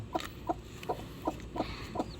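A mother hen with chicks clucks in short, evenly spaced bursts, about six clucks close by, with a faint steady background hiss.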